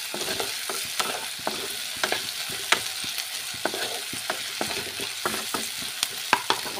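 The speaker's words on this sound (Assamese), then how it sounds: "অকণমান ভাজি ল'ব লাগিব।" Ground ginger and garlic sizzle in a hot pan for a sesame and tomato pitika, a continuous close fry punctuated by frequent sharp spatula scrapes and clicks at an irregular pace, with no voices.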